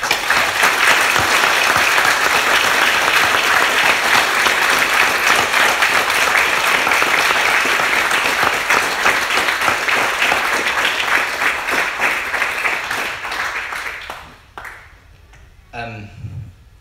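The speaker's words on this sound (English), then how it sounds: "I'd like just everyone just to join me in a hearty round of applause" Wedding guests give a hearty round of applause at a reception, loud, dense clapping sustained for about fourteen seconds before fading out, followed by a brief sparse patter.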